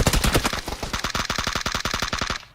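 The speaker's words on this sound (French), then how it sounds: "je lui ai mis une balle" Fast automatic gunfire from a video game shooter, a steady rapid string of about twenty loud close shots, unbroken and without talk.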